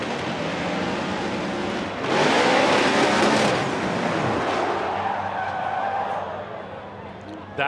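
Formula Drift competition car driven by Chelsea DeNofa, engine roaring with tyres skidding and squealing through a wide line, loud and continuous, swelling midway, with a commentator talking over it.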